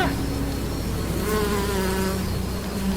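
A swarm of thousands of wasps drones in a dense, continuous buzz of many overlapping wings, loud and close, with no voice over it.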